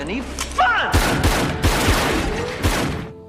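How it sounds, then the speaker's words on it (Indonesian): Gunfire shootout from the action film Face/Off: a rapid series of loud, sharp shots and booming blasts bursts in after a short stretch of voices and sweeping tones, then carries on in irregular volleys close by. "Mereka berdua kembali bertemu dan baku tembak pun kembali terjadi"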